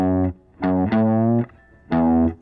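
Overdriven electric guitar plays two joined phrases of a riff, thick distorted chord stabs in three bursts separated by short gaps, loud and close, no talking.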